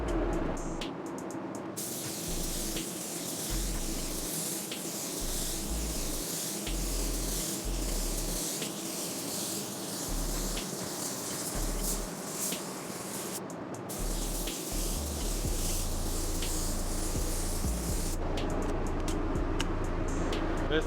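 A spray gun hisses steadily as it lays a coat of blender across a car hood, a continuous close airy rush broken by a couple of brief stops.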